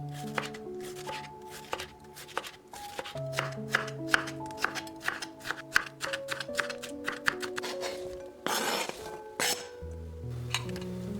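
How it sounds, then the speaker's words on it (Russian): Rapid knife chops dice a red bell pepper into small cubes, knocking against a cutting board in quick, uneven bursts, with soft music playing underneath. "Красный болгарский перец очищаем и нарезаем небольшими кубиками."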